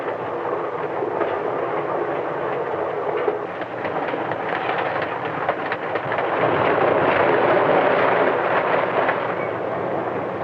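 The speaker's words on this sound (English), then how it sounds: "the train speeds toward the sunset." Passenger train travelling at speed in 1955 archival footage, a loud continuous rushing rumble that swells slightly toward the end, with no voices.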